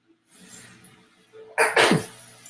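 A single sharp sneeze bursts out loudly near the end, preceded by soft breathing.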